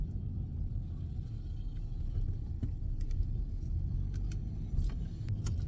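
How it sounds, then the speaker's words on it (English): A car rolls slowly through a busy grocery store parking lot on a sunny, cold day, its low steady engine and road rumble filling the cabin, with faint clicks and ticks scattered over the continuous drone. "Just driving through the parking lot of a grocery store"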